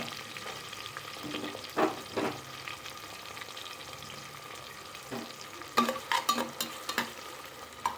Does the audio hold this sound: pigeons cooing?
no